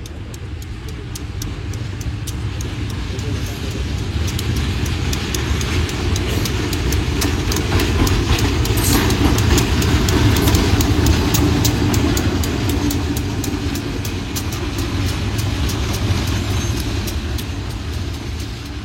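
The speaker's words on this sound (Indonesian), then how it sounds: "ini lokomotif CC201 129R atau CC201 8348 mulai masuk jalur 4" A CC201 diesel locomotive rolls into track 4 at a railway station, its engine giving a continuous, close, heavy rumble that swells slightly in the middle and holds steady throughout.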